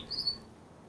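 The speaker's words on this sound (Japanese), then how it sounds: "イソヒヨドリはですね、かなり綺麗な鳴き声で結構声も大きいですね。" A blue rock thrush gives one brief, faint, high chirp in a quiet outdoor setting, followed by soft background hiss.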